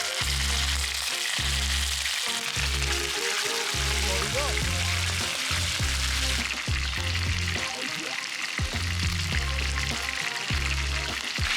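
Fish seasoned with pepper and salt frying in a pan at a campsite, a loud continuous oily sizzle and crackle close up, with faint pulsing background noise and no talking.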